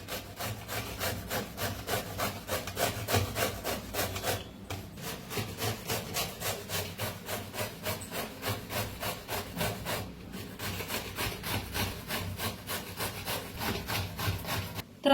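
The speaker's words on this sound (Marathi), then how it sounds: "त्यानं किसायचं मोठ्या किसणीनं।" A bottle gourd is grated by hand on a large kitchen grater, giving steady, rapid rhythmic rasping strokes with short pauses, close and continuous with no talking.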